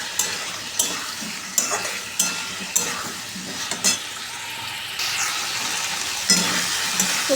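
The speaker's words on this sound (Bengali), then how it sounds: "সবজিটা দিয়ে দিচ্ছি। সবজি এখন ভালো মতন কষাতে থাকবে" Vegetables stirred and fried with spices in a pan, a spatula scraping in repeated strokes over a steady sizzle, close and fairly quiet.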